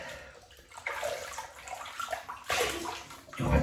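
Water splashes in irregular bursts as a face is rinsed before a wet shave, close and fairly loud with brief lulls between splashes.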